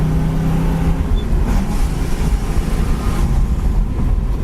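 A 1965 Ford Mustang GT driving and accelerating, its engine a loud continuous low roar mixed with wind rush from inside the moving car.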